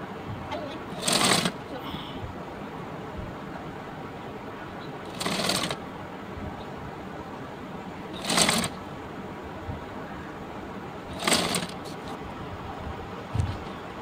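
Short bursts of cross-stitch sewing on salwar fabric come four times at even intervals, each a brief whirring run separated by quiet pauses.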